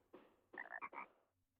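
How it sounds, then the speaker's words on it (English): A frog in the Chibi-Robo video game gives a quick burst of croaks: one short call followed by a tight cluster of three or four ribbits, close and clear, with no talking over it. "Ribbit, Ribbit, Ribbit. This frog seems to be saying something."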